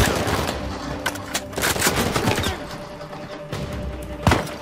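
Gunfire in Uncharted 4, with rapid, close bursts of shots and cracks in uneven volleys over a steady background of game noise.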